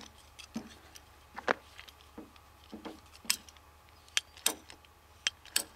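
Ratchet cutter clicking through a piece of material, a series of sharp, close, irregular clicks and snaps spaced around half a second apart over a quiet background.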